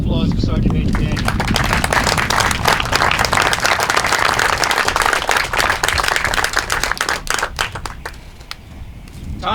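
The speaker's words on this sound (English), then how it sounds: "How about another round of applause for Sergeant Major Daniel?" Loud, dense audience applause for a Sergeant Major at a military battalion change of command ceremony, sustained clapping that thins out toward the end, with voices mixed in.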